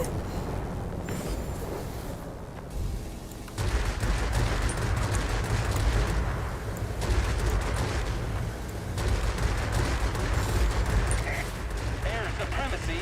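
Anti-aircraft gunfire in the World of Warplanes video game arrives as dense rapid bursts and rumbling booms, loud and continuous, with a brief lull before the barrage swells again. Talk runs over the shooting.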